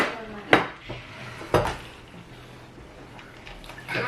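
Tin plates clattering and clanking together in a home kitchen, two sharp metallic knocks about a second apart followed by lighter scraping and rattling at close range.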